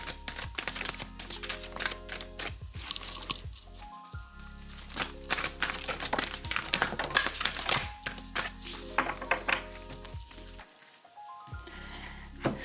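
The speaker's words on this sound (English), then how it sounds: "I will just jump right in and shuffle" Steady crisp riffling and tapping of an oracle card deck being shuffled up close, continuous with only brief gaps, over a low constant hum.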